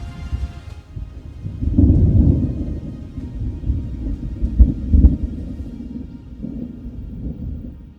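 Thunder from a cloud-to-ground lightning strike during a severe storm over the Lublin region rolls in as a deep, loud rumble lasting several seconds, with heavier booming surges in the middle before it tails off.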